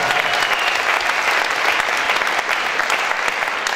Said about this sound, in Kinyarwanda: You can clap to God.